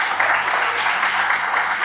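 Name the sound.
audience applause for the poet's brother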